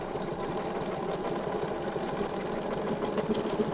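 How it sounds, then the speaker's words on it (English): Sewing machine stitching fabric around a circular template, a fast steady mechanical whirr with rapid needle clatter, close and continuous. "We're going to stitch 3/4 of a circle."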